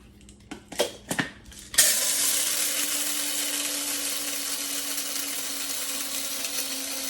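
A few clicks and knocks come first, then an electric grinder starts up and keeps a steady, loud whirring buzz as it grinds coffee beans for cold brew, running with no voices.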